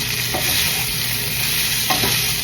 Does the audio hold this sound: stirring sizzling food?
yes